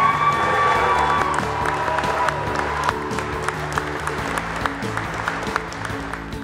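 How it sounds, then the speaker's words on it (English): Guests applaud a newly introduced wedding couple with steady, full-room clapping, loud at first and easing slightly, with a few scattered cheers and tonal music-like hum underneath. "Let's give a round of applause."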